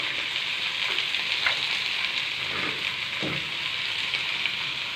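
Onion and garlic sautéing in olive oil: a steady, close crackling sizzle with faint stirring scrapes, continuous and even throughout.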